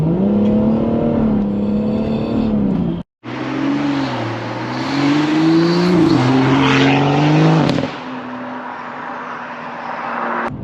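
A modified Stage 2+ BMW M140i accelerates hard in second gear from about 2,000 rpm. Its loud engine note climbs, breaks briefly around a gear change, then pulls on strongly.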